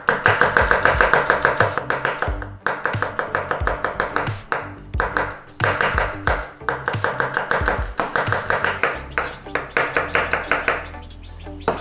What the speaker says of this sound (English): So let's crack on and thinly slice our shallots.